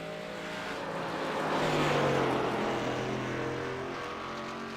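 A race car on a mountain hill climb powers back on the throttle, its engine note swelling from a distance to a louder peak and then easing off, with no talk over it.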